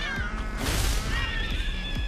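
Cat meows from the Tokyo Jungle video game, a series of drawn-out, tonal calls stretching across the whole stretch over a busy bed of game sound and low thumps.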